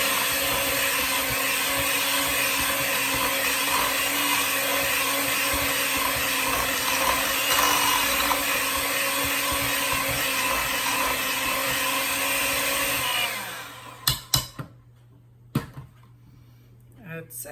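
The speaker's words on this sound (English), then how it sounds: "we're going to give it a little mix with our hand mixer." An electric hand mixer whirs steadily as it beats cake batter for a Kentucky butter cream sauce cake, a constant loud motor drone that cuts off abruptly near the end, followed by a few scattered clicks and bumps.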